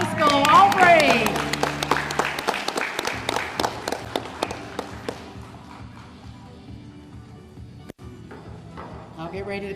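A graduation ceremony audience applauds a graduate, many hands clapping in a brisk rhythmic burst under cheering at first, then fading to scattered claps as an announcer talks.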